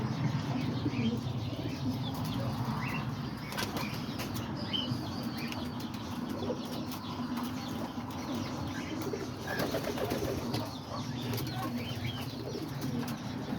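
Pigeons in a loft holding nine breeding pairs, some sitting on eggs, give soft continuous cooing with intermittent wing flaps and shuffling, close by and steady throughout.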